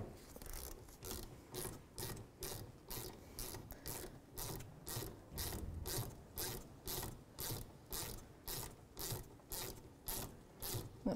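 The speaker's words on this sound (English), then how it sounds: "So we're going to put these Allen head socket right in there and take the pin right out." A 7 mm Allen head socket on a ratchet working caliper slider pins out of a 2001-2007 Volvo V70 rear brake: a steady run of about two dozen quick, evenly spaced ratchet clicks, close and fairly quiet.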